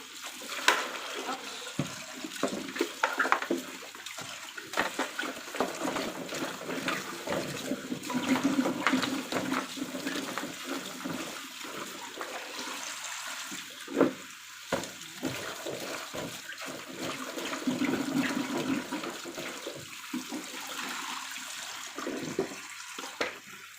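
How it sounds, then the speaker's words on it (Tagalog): Muddy water chestnuts rinsed in a net under a running tap, a steady broadband wash of flowing, splashing water that lasts throughout with small shifts as the net is moved about. "Hinugasan ko lang siya sa net para matanggal naman yung konting putik na."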